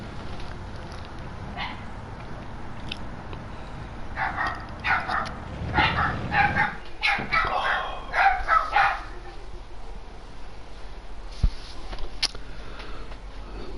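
Small dogs bark in a run of sharp yaps in the distance, partly under a voice and a low steady hum.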